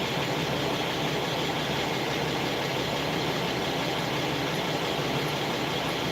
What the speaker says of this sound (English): This guy on this side's got a reefer unit running.